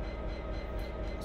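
Train Simulator train on a British railway slowing under brakes, heard as a steady low rumble with rhythmic wheel beats, continuous and fairly loud, with no talk over it.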